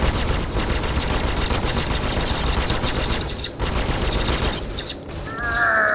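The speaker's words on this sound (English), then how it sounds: "Sounds like laser fire" Rapid laser fire during space combat in Star Citizen aboard a Sabre, a dense, loud, continuous rattling barrage with a brief pause midway, then a rising electronic tone at the end.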